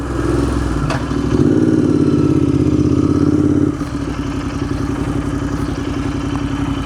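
A motorcycle rides along Route 14 in Vermont, its engine droning loudly with a rumbling pulse that drops in pitch and level partway through, wind and road noise steady underneath.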